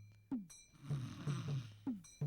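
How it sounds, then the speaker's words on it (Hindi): A woman snores at night while sleeping outdoors near a large rock: a few rough, rhythmic rasping breaths, fairly close and moderately loud, with no talking over them. "तू इस तरह से खर्राटे लेगी तो मैं कैसे सोऊंगा?"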